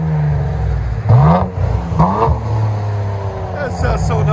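2014 Cadillac CTS-V with turbo dual exhaust and bottle resonators revving, a deep idle punctuated by two sharp revs that rise and fall, close and loud, with people talking alongside.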